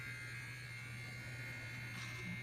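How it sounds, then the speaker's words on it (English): Bimirth kids electric hair clipper running with a steady, even buzz and a low hum throughout, close and fairly quiet, with no talking. "I will choose the number 9 and put on the hair clipper."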